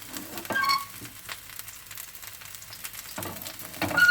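Rava uttapam with pressed-in vegetables cooks on a pan over medium flame, giving a soft, steady sizzle and frying crackle with a few louder bursts, heard alone and fairly close.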